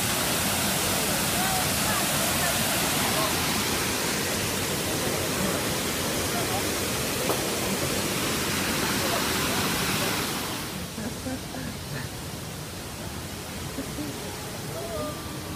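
A small river flows downstream in a steady, broadband rush of running water that stays loud and unbroken, then drops a little in level for the last few seconds; no one speaks.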